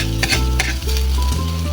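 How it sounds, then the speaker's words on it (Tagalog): Egg frying in a pan with fish and tomato sauce, sizzling steadily while a utensil scrapes and stirs through it in a few quick strokes, close and clear. "ang ating itlog at imimix lang ulit natin baka masunog na yung ilalim"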